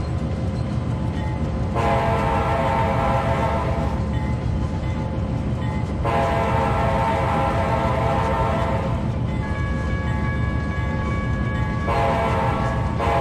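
A train rumbles steadily past a level crossing in the railway game Trainz 2022, with long tonal horn blasts sounding three times over the heavy continuous rolling noise, close and loud, no speech.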